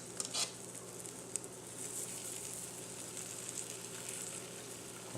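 Batter sizzles and fries steadily in an oiled waffle iron, a close, even crackle with a couple of brief louder pops near the start and no talking.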